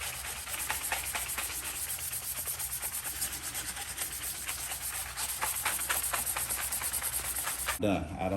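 Plastic fairings from a Suzuki GSX-R 600/750 motorcycle are hand-sanded before painting, giving a steady, close scratchy rubbing in continuous back-and-forth strokes that stops abruptly near the end.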